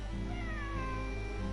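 In the video game Genshin Impact, a cat gives a single drawn-out, wavering meow over steady background music.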